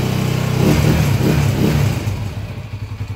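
Honda TMX155 motorcycle engine running after an overhaul, revving up briefly and then settling into a steady, thumping single-cylinder idle, close and loud with no talking.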